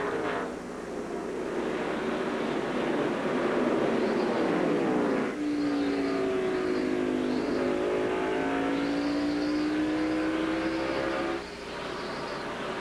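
NASCAR stock cars racing at speed in the video game 2003 Chevy Rock & Roll, a steady loud engine drone with rising and falling revving tones as cars pass, continuous with no talk.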